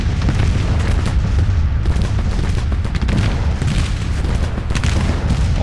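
Cannon fire in a Civil War video game, with dense, continuous booming from artillery guns and a heavy rumble of overlapping shots that never lets up.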